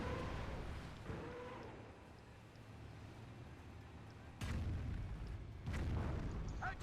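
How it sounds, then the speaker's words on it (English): A Nebelwerfer rocket barrage in the World War II strategy game Company of Heroes, with muffled booms and blasts rumbling at moderate volume, two sharper explosions near the end. "There was the Nebelwerfer, there you go. Another series of rockets."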